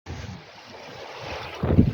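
Wind and sea waves at a Philippine shore on a spearfishing outing make a steady rushing roar that swells into a louder, rumbling surge near the end, with no voices.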